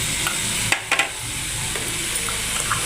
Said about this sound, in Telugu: ఇలా మంచిగా వేయించుకోవాలి.